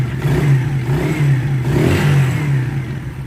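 A motorcycle engine, newly fitted with piston rings and still burning oil and smoking, runs close by. It idles roughly and rises in a couple of brief revs, with a throbbing, slightly clattery tone.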